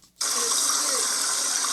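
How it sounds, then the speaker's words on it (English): Water tap running indoors, a steady bright gushing hiss that starts abruptly after a brief quiet moment and continues evenly and close by, with no talking. "Turn the other water on."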